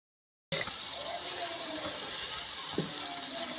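Tomato mixture with tomato juice fries and is stirred in a pan, giving a steady, close sizzle with a few soft scraping strokes and no talk.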